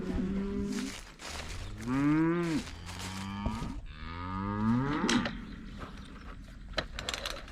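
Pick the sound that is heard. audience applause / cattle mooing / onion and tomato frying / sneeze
cattle mooing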